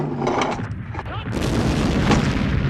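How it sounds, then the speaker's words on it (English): Artillery fire at the Battle of Verdun in 1916: deep, repeated booming blasts overlap in a dense, loud barrage, with a voice faintly present beneath them. "The French artillery now firing at clearly visible targets."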